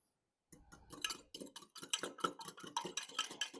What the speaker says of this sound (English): we are going to stir in 1 packet of unflavored gelatin